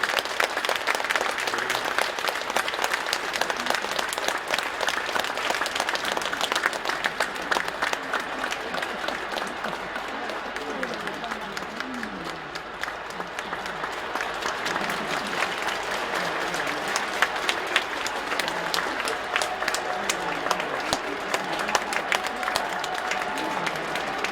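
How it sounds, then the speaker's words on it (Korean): A large congregation applauds to welcome President Yoon Suk Yeol at the 2023 Korean churches' joint Easter service, a dense, sustained wall of clapping from a big indoor crowd that holds steady for the whole stretch. "윤석열 대통령께서 나오실 때 큰 박수로 환영해 주시겠습니다"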